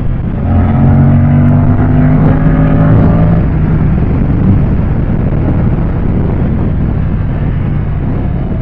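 A 2024 Moto Guzzi Stelvio motorcycle engine pulls hard on a test ride, loud and close, with a rising engine tone for the first few seconds, then a steady, heavy wind rush.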